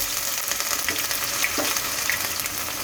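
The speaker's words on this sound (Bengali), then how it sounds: "আদাটাকে একটু হালকা ভেজে নেব" Grated ginger and whole cumin seeds frying lightly in oil for a potato and soybean curry, giving a steady, soft sizzle throughout with faint stirring scrapes and no talking.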